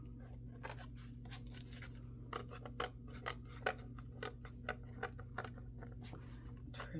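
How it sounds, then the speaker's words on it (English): Small scissors trimming paper for mini journals in a quick, uneven series of crisp cuts, close and quiet, with a steady low hum underneath. "I do have these tiny little scissors"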